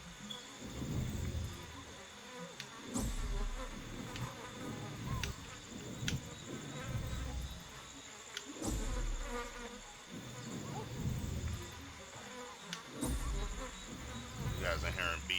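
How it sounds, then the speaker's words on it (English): Bees buzz around a wild setting in Ancestors: The Humankind Odyssey, their droning hum persistent and fairly close. Insect whine rises and fades with passing flights over steady outdoor ambience. "You guys are hearing bees."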